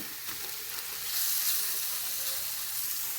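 Bitter gourd pieces with garlic chili powder sizzle and hiss in a pan, a soft, steady frying crackle with stirring, close and fairly quiet.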